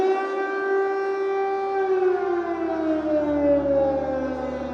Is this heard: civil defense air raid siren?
yes